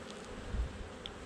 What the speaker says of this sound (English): These bees down here seem to like the north side of these boxes for some reason.